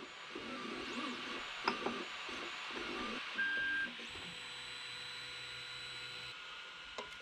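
A 3D printer prints a smartwatch front cover, giving a steady mechanical whir with stepper-motor tones, a few faint clicks and a brief high beep, all fairly quiet and continuous.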